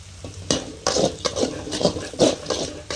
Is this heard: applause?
no